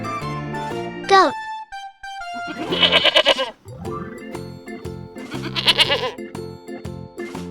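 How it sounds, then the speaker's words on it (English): Two clear, trembling goat bleats ring out close by, a few seconds apart, over a light, upbeat instrumental tune with no speech. "Goat."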